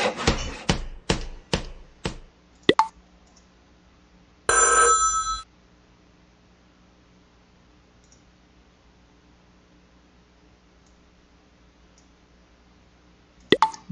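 A telephone rings in the online game Fun Hospital with one short, bright burst of ringing. A run of quick clicks comes before it and a couple of faint clicks follow. No one speaks.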